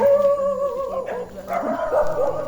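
A dog barks and whimpers in short, uneven yelps over a steady tonal hum, fairly close, with no clear talking.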